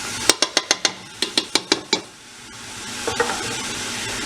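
Spoon tapping and scraping chili in a metal pan, a quick run of about ten crisp rhythmic knocks followed by softer stirring and a gentle sizzle.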